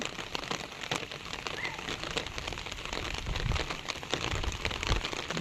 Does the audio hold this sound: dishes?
no